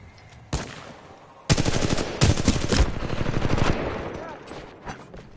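Weapon fire in the shooter Titanfall 2 comes in several loud rapid bursts. A short single shot opens the clip and the firing trails off toward the end, with faint game sounds between bursts.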